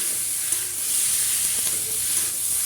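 Cauliflower pieces coated in spice masala fry in oil in a pan, making a steady, dense hiss of sizzling with faint stirring noises across a few seconds and no voices.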